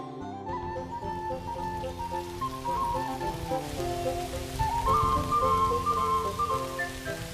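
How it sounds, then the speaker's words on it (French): Rain falls in an animated episode, a steady soft hiss running beneath sustained musical tones throughout. "Tiens, voilà qu'il pleut."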